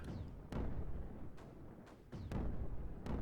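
Deep booming explosion blasts from the video game Creeper World 4, where eggs burst in a massive chain, with several heavy thuds spread across a low rumbling roar, loud and without talk.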